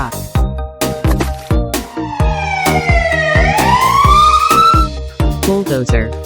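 A cartoon fire truck siren wails and rises loudly and close over a steady, rhythmic percussive beat.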